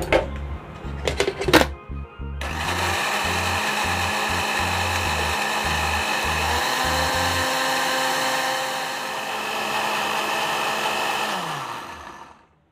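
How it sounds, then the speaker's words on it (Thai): A kitchen blender blending fingerroot with water runs as a loud, continuous whir for about ten seconds, then winds down. It is preceded by short clunks and knocks as the jar is set up. "ใส่กระชายนะคะลงไปในโถปั่นค่ะใส่น้ำลงไปเอาพอปั่นได้นะคะ"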